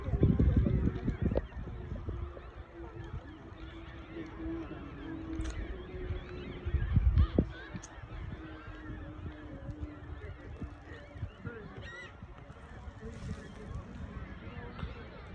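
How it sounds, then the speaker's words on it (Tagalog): Scattered honking calls of many ducks, faint and distant, over a quiet outdoor background with occasional soft knocks. "Maraming ibon, no? Maraming pato"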